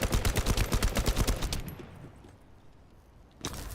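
Rapid automatic gunfire in the 7 Days to Die video game, fired at void fragments: a steady, loud burst of about twenty evenly spaced shots, then a quiet stretch, then more shots resuming near the end.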